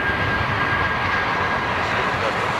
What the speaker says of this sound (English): Beautiful looking aircraft